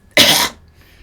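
A person's voice imitates a cat's smoker's cough: one loud, raspy, hacking burst lasting about a third of a second, followed by quiet.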